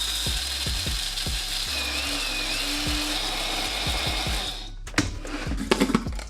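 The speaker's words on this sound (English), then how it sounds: "transfer this into a blender and blend this until nice and fine" A blender grinds dehydrated lemon zest into a fine powder, a loud, continuous whirring with gritty rattling that stops abruptly and is followed by a few clattering knocks.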